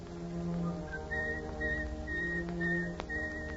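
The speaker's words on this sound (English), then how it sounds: "It's the sound of a guy whistling." A man whistles a short melody in a series of clear, sustained notes, fairly close and alone, in an old-time radio broadcast.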